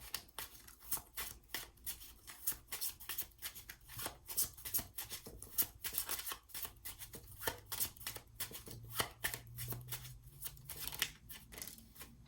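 A deck of playing cards is shuffled close by in repeated quick riffles and snapping flicks, irregular bursts that run for about twelve seconds with no talking.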